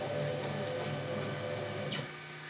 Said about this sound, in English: I'm hitting the 0 button on my machine, sending her back to home